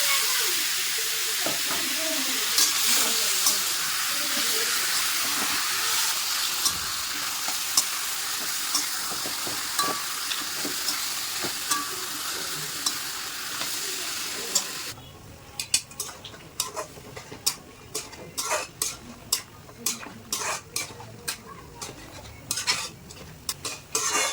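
Meat coated in turmeric, cumin, chili powder and ginger-garlic paste sizzles in a pan while being stirred, a dense frying hiss that thins out midway into sharp spoon scrapes and clatters against the pot.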